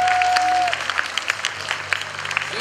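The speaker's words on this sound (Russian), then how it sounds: "Еще раз аплодисменты!" Audience applause at the closing ceremony of a youth arts festival-competition, a broad wash of clapping filling the hall after a held tone fades, steady and fairly loud throughout.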